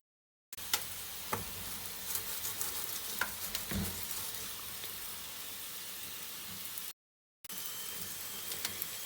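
A cheese and spinach paratha sizzles in butter on a hot griddle, a steady close frying hiss with occasional crackles and light scraping taps, broken by a brief silence before resuming.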